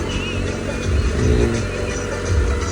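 A tractor engine runs at full speed during field ploughing, a loud continuous roar with a rising surge midway and wheel slip, and no talk over it.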